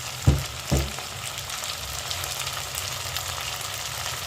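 Potatoes coated in turmeric and salt dropped into a pan of frying onions, two thuds at the start and then a steady close sizzle for the rest of the clip, with no voices.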